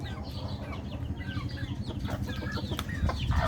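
Hens and chicks cluck and peep steadily at feeding time, a close, continuous chatter of many birds with no pauses.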